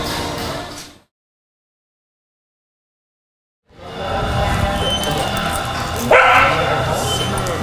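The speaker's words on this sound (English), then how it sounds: "There's a dog barking at us." A dog outdoors at a training ranch barks and yips loudly and close by, with a full cutout of silence midway before noisy barking and outdoor commotion resume.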